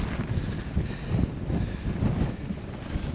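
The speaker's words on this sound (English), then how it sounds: "The wind's picking up. It's pretty gusty like." Gusty wind on open moorland of heather and bog buffets the microphone with a loud, continuous rumble that swells and eases in irregular surges.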